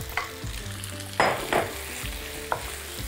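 Chicken breast pieces and eggplant fry in a pan, a soft continuous sizzle with a few sharp scraping stir strokes and clinks at irregular moments.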